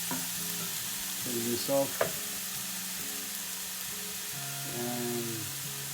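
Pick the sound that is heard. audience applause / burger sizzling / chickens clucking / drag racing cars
burger sizzling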